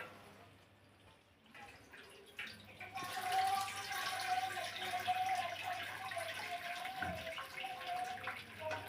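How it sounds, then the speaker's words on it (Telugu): Boiled cooking water from a pressure cooker poured into another vessel, a soft splashing, gurgling stream that starts after a quiet moment and runs steadily until the end, faint and close. "ఇప్పుడు దీన్ని తీసి ఇంకో దాంట్లోకి వేసుకుంటే ఈ వాటర్ మళ్ళీ మనకి తర్వాత కావాలంటే వేసుకోవచ్చు."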